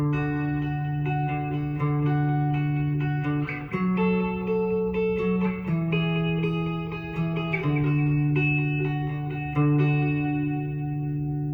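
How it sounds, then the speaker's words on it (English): Sustained electric guitar chords with a shimmering, wavering modulated delay effect, ringing notes blending into each other in a smooth, continuous wash. "I might see what just a little bit of modulated delay sounds like"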